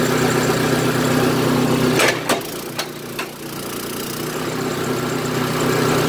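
A PowerKing kinetic log splitter's engine runs with a steady mid-low drone, broken around the middle by a few sharp mechanical clunks and a brief dip before the hum settles back in.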